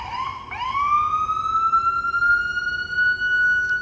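An ambulance siren wails steadily and loudly close by, a continuous rising tone with strong harmonics that briefly dips and restarts before holding, over low street rumble.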